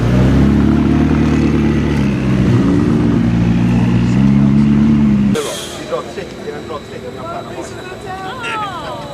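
A Koenigsegg Agera rolls out in race mode, its engine droning loud and close with pitch shifts as someone talks over it, then the engine note drops away to quieter, more distant traffic sound.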